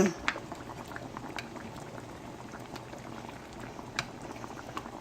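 Sweet potatoes simmering in a pot of boiling water for a fish sauce, soft bubbling with scattered pops and a few sharper blips, quiet and close, no talking.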